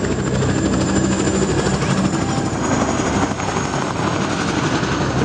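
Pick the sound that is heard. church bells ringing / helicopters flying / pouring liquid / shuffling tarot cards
helicopters flying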